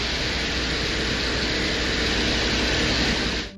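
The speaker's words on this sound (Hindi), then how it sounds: "जब यह स्पेसक्राफ्ट वीनस ग्रह की सतह में ड्रिल मशीन से गड्ढा कर रहा था" A spacecraft's drill boring a hole into the surface of Venus: a continuous, loud mechanical roar with an engine-like drone that stays unbroken until it cuts off abruptly near the end.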